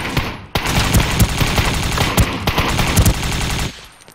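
Gunfire in the battle royale game Ring of Elysium: a loud, sustained burst of rapid automatic shots that continues for about three seconds and then cuts off abruptly.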